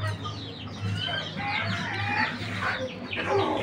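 Several hens in a steel-trayed multi-compartment cage cluck and chatter continuously, close by, over a steady low hum.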